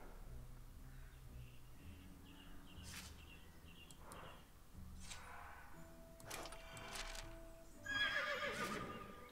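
A horse from the video game Myths of the World whinnies and its hooves clop, mixed with in-game music and ambient effects, the loudest burst arriving near the end.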